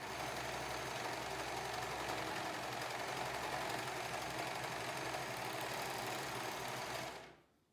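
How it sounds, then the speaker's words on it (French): A sewing machine overcasts the edge of a fabric face mask with a fast, steady mechanical whirring and chattering that runs continuously at close range, then stops abruptly near the end. "je viens surfiler le bord"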